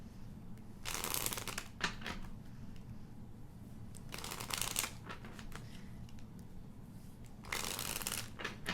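A deck of chakra cards is shuffled in three quick riffling bursts, close and crisp, separated by quieter stretches of light handling.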